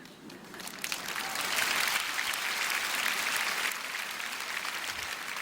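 A church audience claps during a Korean-language sermon, with applause swelling after a quiet start, holding steady for a few seconds, then thinning to a softer patter.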